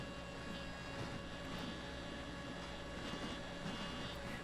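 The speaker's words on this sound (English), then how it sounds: "The wind was blowing the plane directly into the trees." A small Spy Hawk RC plane flies on a windy day, giving a faint, steady motor drone that hangs behind constant wind noise with no clear rise or fall.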